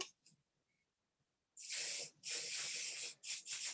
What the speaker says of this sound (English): I will put some hold spray. I'm using Osis Plus Freeze 2 for now.